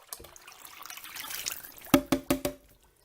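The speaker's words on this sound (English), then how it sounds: "I'm going to add some water to the can" Water is poured into an emptied crushed-tomato can, a soft splashing trickle followed by four distinct hollow metallic plinks close by before it falls quiet.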